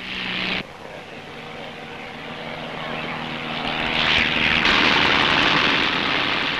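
A propeller airplane such as an Airspeed Viceroy at the start of an air race, its engine drone steady and fairly loud, then building louder toward the end as it runs up or passes nearer.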